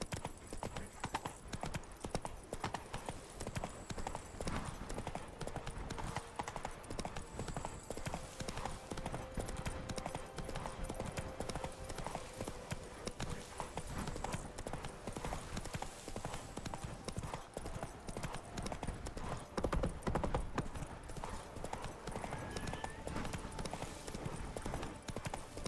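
Hooves of Roach, a horse in the video game The Witcher 3, clip-clopping in a fast, continuous rhythm over game ambience, with an occasional whinny.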